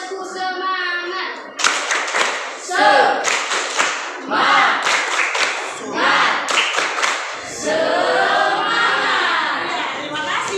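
A school class claps in rhythmic bursts to cheer student groups, with patterned clapping and children's voices joining between the rounds.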